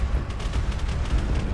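Nova Cannon shot striking the rear of a ship in a Space Engineers Warhammer 40K fleet battle, a dense rumbling blast that holds loud and steady throughout, with a few faint crackles riding on top.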